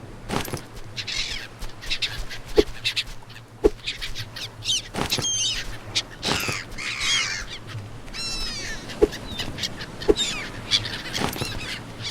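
Gulls cry out again and again over a tropical island in the survival game Stranded Deep, sharp squawks and cackles scattered over a low droning background, with occasional thumps between calls.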